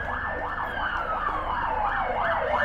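A police car's wailing siren sweeps up and down repeatedly in a street in Liverpool, southwest Sydney, with a second steady falling tone over distant road rumble, heard from some distance.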